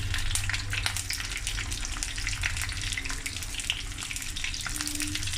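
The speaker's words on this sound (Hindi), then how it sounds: "तो मैं शिमला मिर्च इसमें डाल रही हूँ" Capsicum frying in hot ghee in a kadai, a dense, steady crackling sizzle that stays close and constant throughout, with no voices over it.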